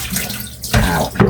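Tap water gushes from a faucet into a sink while washing, running steadily and close, swelling louder partway through and again near the end.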